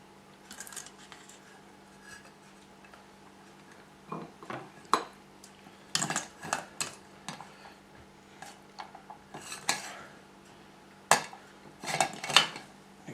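Cooked rice is served onto a plate with a serving spoon, giving scattered light metallic clinks and scrapes against crockery in irregular bursts over a low steady hum.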